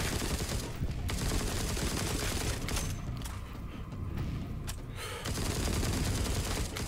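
Gunfire cutting down zombies in TWD: Onslaught, a loud, continuous barrage of rapid shots that briefly thins in the middle before surging back at full intensity.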